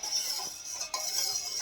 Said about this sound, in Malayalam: അപ്പം നമുക്കിതൊന്ന് ഇളക്കിയിട്ട് ഒരു പകുതിയാക്കി എടുക്കണം ആദ്യം.